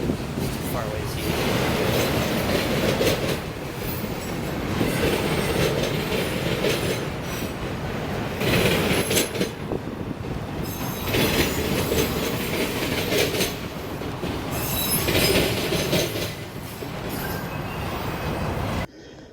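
An autorack freight train rumbles past steadily in Romulus, Michigan, its wheels clacking rhythmically with occasional squeals over a long, continuous roar.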